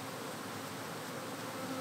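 Honey bees buzz continuously during an open-air hive removal, a dense, steady swarm drone filling the air at close range with no pauses or voices.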